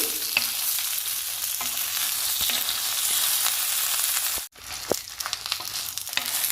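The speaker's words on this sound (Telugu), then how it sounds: "ఇవి కూడా అన్నీ వేయించుకోవాలి" Dried red chillies and other chutney ingredients fry in hot oil with a steady broad sizzle, broken by a few spoon stirs and a brief pause near the end before the crackle resumes, close by with no talking.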